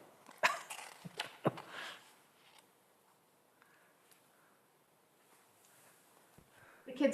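A dog barks a few sharp times in quick succession nearby, then things go quiet before another burst of noise at the end.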